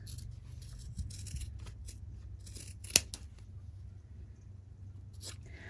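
A single crisp snip of scissors cutting through the nylon zipper of a sewn zippered coin pouch, one short sharp cut alone over faint room hum.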